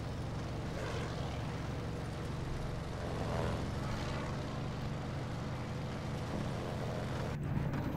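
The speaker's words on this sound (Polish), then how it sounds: "Lecimy samolotem." A World War II-era airplane flies in Battlefield V, its engine a steady, full drone with a low rumble that holds at an even level throughout.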